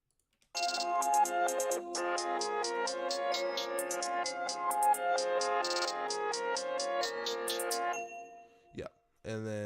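A simple trap beat plays with a track, with bright bell-like melodic notes over a steady rhythmic pattern, fairly loud and continuous for several seconds before stopping, followed by a couple of brief clicks.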